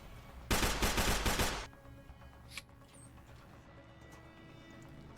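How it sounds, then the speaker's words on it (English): A loud burst of rapid automatic gunfire in Deus Ex: Human Revolution, roughly one second of close, crackling shots, followed by quieter ambient game sounds and a faint single shot or impact later. "it's a lot of bullets flying around"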